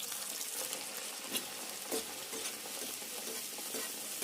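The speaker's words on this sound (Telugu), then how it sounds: "ఇదిగో ఇట్లా కాలాలి ఈ కలర్కి వచ్చేదాకా మంచిగా కాల్చుకోవాలి" A mixture of green peas and potato frying in oil, giving a steady, dense sizzle with a few soft stirring scrapes. Close and fairly quiet throughout, with no voices.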